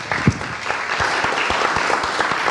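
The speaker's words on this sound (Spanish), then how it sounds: "a quien les pido también, por favor, recibirlo con un fuerte aplauso" An audience at a conference in Costa Rica gives a speaker a welcoming applause, close and steady, with individual claps standing out from the wash.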